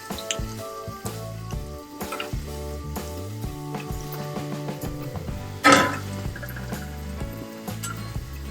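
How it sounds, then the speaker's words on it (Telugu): Cumin seeds hit hot oil with fried garlic for a Telugu stuffed capsicum curry, giving a steady close sizzle and crackle with a brief louder burst midway, under kitchen clatter. "ఇది కొంచెం వేగిన తర్వాత దీంట్లో జీలకర్ర వేసుకోండి."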